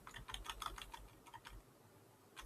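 Several crisp computer keyboard key presses, like a left arrow key tapped repeatedly, clicking in quick irregular bursts close up in a quiet room, with a final isolated tap after a pause.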